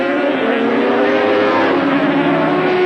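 Racing motorcycles at a 1983 Pan Am Countrywide Series race roar steadily around the track, a dense, continuous engine drone with layered high-revving tones and no break across the clip.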